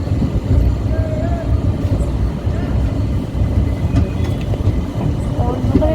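Sahid Express (12348) train pulling into Kamarkundu station: a steady, loud low rumble of rolling wagons throughout, with faint squeals and rattles on top and occasional voices nearby.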